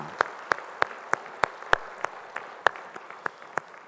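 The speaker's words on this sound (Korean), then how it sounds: "우리 찬양 박수 주님께 영광의 박수 올리겠습니다." A Korean church congregation claps in unison for praise during a Sunday service, about a dozen sharp, evenly spaced claps in a steady beat, with no talking.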